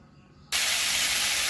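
Prawn heads dropped into hot mustard oil in a wok burst into a loud, steady sizzle that starts abruptly and keeps hissing evenly, close and alone.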